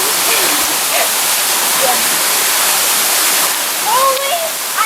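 Seen from the top, a waterfall in a bamboo forest rushes as a constant, dense roar of falling water, with a few faint voices calling out over it.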